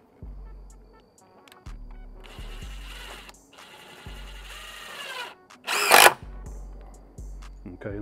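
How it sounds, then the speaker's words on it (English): Impact drill driving a screw into a metal joist hanger, several short bursts of whirring motor with rattling impact hammering, separated by pauses, plus one sharp metallic clack near the end. "I'm just going to use my impact drill here just to make it quick and easy."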